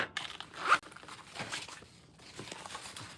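A zipper on the pocket of a handmade shoulder bag is pulled in a few quick rasping strokes, close and clear, with soft fabric rustles between them.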